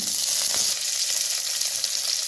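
Loud, steady sizzling of curry leaves and green chillies frying in hot oil, crackling continuously up close.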